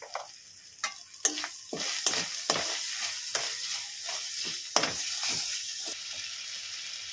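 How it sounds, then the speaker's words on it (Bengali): Ginger-garlic paste frying in hot oil with turmeric and salt for potol korma, a continuous sizzle broken by a series of sharp spatula scrapes and taps as it is stirred. "আর 1 চামচ ভর্তি করে আদা রসুনের পেস্ট দিয়ে দেবো। ভালো করে এটাকে ভেজে নেব।"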